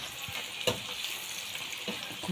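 Cauliflower frying in a pan and being turned, a steady soft sizzle with a few faint scraping knocks from the turning.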